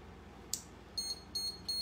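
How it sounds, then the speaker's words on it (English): A kitchen timer beeps in three short bursts of rapid high-pitched tones, preceded by a single click, over a low background hum while a lemon pie with a macadamia nut crust is being made. "I'm going to clear my little timer here."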